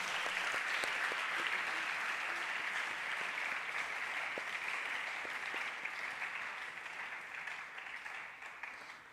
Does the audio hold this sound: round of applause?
yes